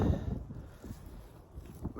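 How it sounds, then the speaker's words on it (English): Wind gusting hard outdoors in the woods on a hilltop, rough low buffeting rushing against the microphone in uneven surges, close and fairly loud. "It's windy up here."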